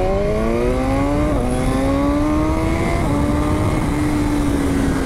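A BMW S1000R motorcycle accelerates hard through the gears while being ridden, its loud close engine note climbing in pitch, dropping at each shift and climbing again, under heavy wind noise.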